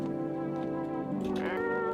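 A cat in the video game No, I'm Not A Human gives a drawn-out, tonal meow that rises and bends near the end, close and clear with no talk over it.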